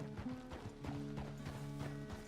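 Horse hooves clip-clop in Red Dead Redemption 2, a steady mounted walk of close, distinct thuds with a low tonal game drone underneath and no talking.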